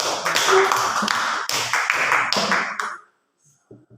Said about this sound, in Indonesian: Kita kasih tepuk tangan untuk Rami